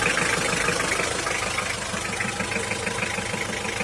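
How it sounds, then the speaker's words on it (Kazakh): Hyundai Porter truck engine idling steadily with about 205,000 km on it, a close, continuous rhythmic diesel-like chug that holds even throughout, no talk over it. "Мотор иштеп турат, жүрүп турат, үнүн ботасыздар."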